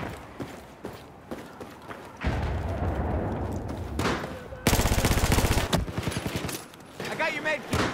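A gun fires in the video game Battlefield 4. A loud, rapid automatic burst follows scattered earlier shots, then more bursts and crackling fire close by.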